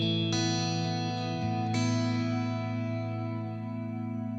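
An electric guitar runs through a compressor on a Line 6 Helix, two sustained strummed chords ringing full and even with smooth decay, alone with no voice.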